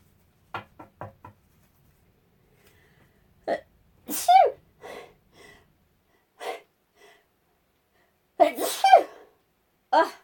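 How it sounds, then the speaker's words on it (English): A sharp sneeze bursts out close to the mic amid quick breaths and small knocks, followed later by another louder burst. "Yes, I'm human. I sneeze."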